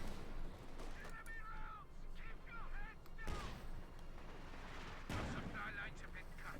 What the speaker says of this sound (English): cluster bombs ready to go